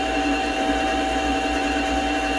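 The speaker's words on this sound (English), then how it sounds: "Cutting a little bit more off right now." A metal lathe cuts steel while turning a die holder for the tailstock. It gives a steady, continuous whirring hum with a faint high whine, constant in level and heard alone without talk.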